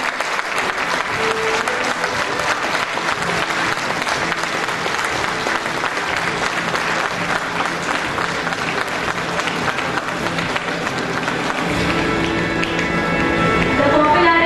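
A large audience at the eOdisha Awards Ceremony, eOdisha Summit 2013, claps steadily and densely for the full stretch, the applause loud and sustained and swelling slightly toward the end.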